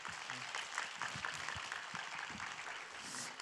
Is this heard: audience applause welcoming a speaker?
yes